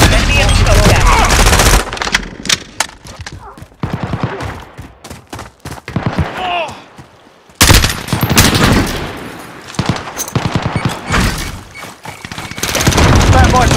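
Call of Duty: Modern Warfare multiplayer on PS5 erupts with loud automatic gunfire and a grenade blast, rapid close bursts broken by brief pauses, while game voices call out over the combat.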